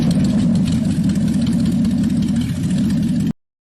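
A vintage Ford 534 cubic-inch V8 truck engine idles with a deep, steady rumble, loud and close, running evenly before cutting off abruptly.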